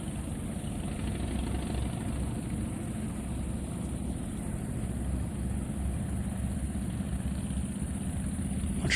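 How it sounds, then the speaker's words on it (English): Several motorbikes idle together with a steady, continuous low engine rumble that holds level throughout, close by and with no voices over it. "Bunch of motorbikes."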